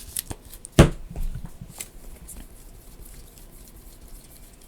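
Marvel Champions playing cards shuffled in one short, crisp riffle burst near the start, followed by a few soft taps and card handling sounds, with no talk over it.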